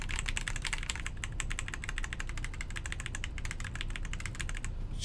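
Rapid, dense clacking of keys on a TMO50v2 keyboard fitted with Marshmallow switches, close and continuous with an even rhythm and no voices.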